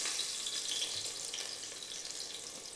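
Fenugreek seeds spluttering in hot oil for stingray fish kulambu, a faint continuous hiss and crackle at low level with no talk.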